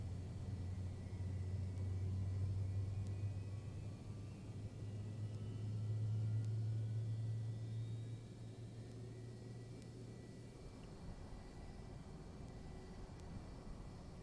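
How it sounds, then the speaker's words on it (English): A Lockheed L-1011 TriStar's jet engine spooling up in Flight Simulator X, a steady low droning rumble that swells twice, then settles to a quieter hum with faint whining tones above. "It sounds like it's still spooling up."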